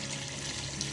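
Hot water is poured into a pot of paye, a trotter curry whose spices have been fried until the oil separates, giving a steady, close, hissing gush of liquid with no break.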